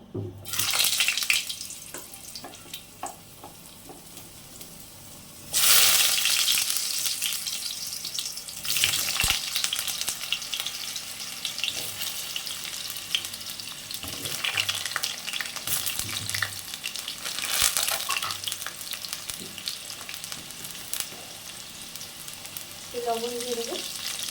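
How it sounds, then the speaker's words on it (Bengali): Potatoes frying in a pan: a loud hiss that surges as they go into the hot oil, followed by steady sizzling with stirring clatter and scrapes. "এবার আমি আলু কটা ভেজে নেব"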